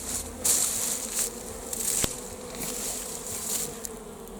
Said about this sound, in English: So there's still a few bees buzzing around